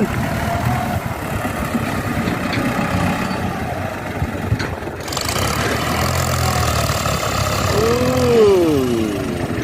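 A Ford New Holland 7610S tractor engine idles with a steady, low rumble throughout, with a brief higher whine rising near the end; no talking.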